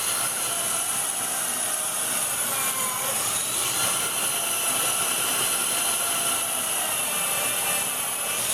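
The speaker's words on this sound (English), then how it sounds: "I'll angle the drill away from me," Power drill boring angled holes into wood for a wheelbarrow planter, a continuous high-pitched whining drone held steady and loud throughout with no pauses.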